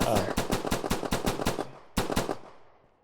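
Rapid automatic gunfire from a heist video game, a fast regular burst of loud close shots for about a second and a half, a brief gap, then a shorter second burst that trails off.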